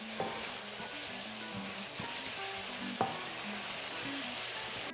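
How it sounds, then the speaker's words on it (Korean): Chili flakes stir-fry with a splash of water for old-style jjamppong, giving a quiet, steady sizzle broken by a few sharp clinks and scrapes of a utensil against the pan. "이렇게 물 좀 넣고 같이 볶아줘요"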